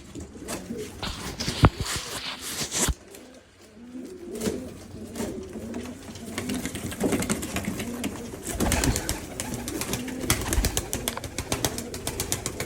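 A loft of flying pigeons coos continuously, with sharp clattering and rustling bursts like wings and feet scattered throughout, all fairly close.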